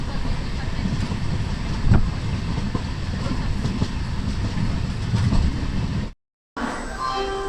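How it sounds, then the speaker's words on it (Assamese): A train travelling at high speed on the way to Guwahati gives a loud continuous rumble with rhythmic clickety-clack of wheels over rail joints, broken by a short silent gap near the end. "বহুত স্পীডত ট্ৰেইন কৰি থাকিব"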